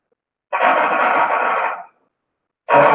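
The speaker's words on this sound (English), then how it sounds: "So what you hear are the inputs of this neuron, this electrodes, which are just transferred to the audio signal." Electrode signals from a cat's visual neuron, converted to audio, come through as dense crackling bursts: one lasting over a second, then silence, then another starting abruptly, with no talking.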